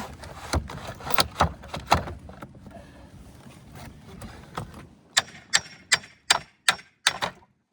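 Fasteners being pried out of a wood shake during a roof repair: irregular creaks and clicks, then a rapid run of six or seven sharp, evenly spaced cracking snaps close by.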